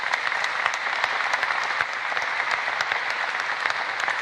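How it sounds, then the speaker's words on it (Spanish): Dense, steady applause from a large audience at a political speech by Ecuador's president Guillermo Lasso about his impeachment trial, continuous and loud throughout without speech. "aplaudan, aplaudan"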